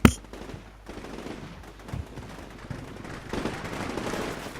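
Automatic weapon fire from a machine gun in the war game Combat Mission: Shock Force 2, set in Fallujah: a loud opening crack, then a long run of dense bursts and rumbling gunfire that swells near the end.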